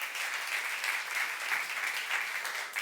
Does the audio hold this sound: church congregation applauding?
yes